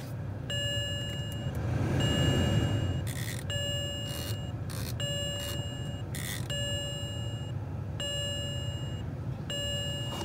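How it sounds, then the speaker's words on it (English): A BMW N54 electric water pump runs on a parked E90/E92 as a steady low whir, while a repeating electronic chime rings in a regular pattern above it. "You'll hear the electric water pump kick on."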